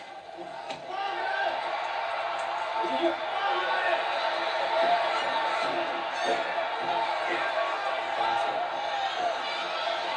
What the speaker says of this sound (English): Still cheering Hayabusa. You hear that here? Here in Japan?